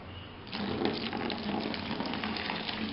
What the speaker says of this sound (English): Now I am going to pour in a kettle, a 2-liter kettle of boiling water, just to kind of rinse everything off,